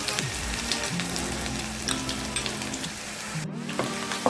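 Chopped ginger and garlic sizzle steadily while being sautéed in a pan for a Kerala beef curry, a continuous close frying hiss with a few scraping stir sounds and a brief dip near the end.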